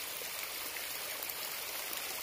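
Slaughter Creek flowing along the Appalachian Trail on a misty day: a steady, dense rush of water, close and continuous, with no voices.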